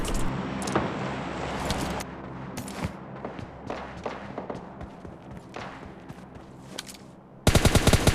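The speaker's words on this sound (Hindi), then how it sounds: "सामने साइड बहुत चचा होते हैं जो कि शॉटगन चला रहे होते हैं" Rapid shotgun and gunfire bursts in the mobile battle royale game PUBG Lite, with repeated sharp shots over a steady game background and a dense burst of rapid fire at the end.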